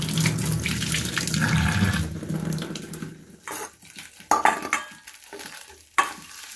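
Hands are washed under a running kitchen tap, with a steady splash of water that breaks into irregular bursts and drips as the flow is interrupted, close by and alone.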